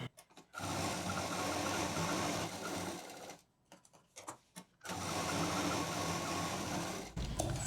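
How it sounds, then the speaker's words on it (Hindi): Sewing machine running steadily while stitching two joined pieces of fabric for a sling bag, in long bursts with a short pause and a few quieter clicks between them, close and loud with no talking. "तो अब इसमें हम सिलाई कर देते हैं।"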